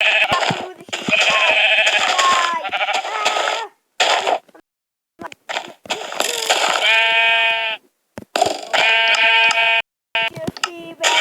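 Sheep bleating in a video game, several loud, wavering bleats in quick succession broken by brief silences, with a few other short game noises mixed in.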